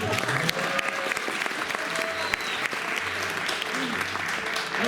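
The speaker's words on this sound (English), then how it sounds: "Take a big bow to your thunderous applause." Dense, sustained audience applause at a magic show at a Six Flags amusement park Halloween event, loud and steady for the whole stretch, with voices and cheers mixed into the crowd.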